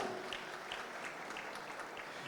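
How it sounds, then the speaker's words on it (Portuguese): A lecture audience gives a round of applause, fairly faint and even, a continuous patter of many hands clapping with a few sharper claps standing out. "Uma salva de palmas, gente, muito obrigado."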